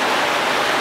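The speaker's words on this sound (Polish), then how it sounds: "Zdążyliśmy się skryć i zaczęło padać." Rain pours down steadily during a river kayaking trip near Rytel, a loud, dense, even hiss with no breaks and no talking.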